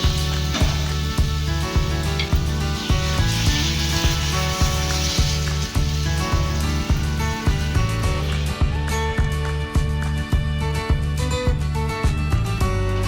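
Water poured into sizzling fish curry masala for a light fish curry, a loud dense sizzle with rhythmic stirring knocks repeating evenly throughout, no talking.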